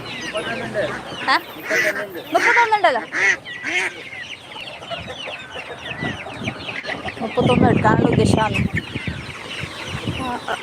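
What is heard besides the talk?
chickens and ducks clucking at a market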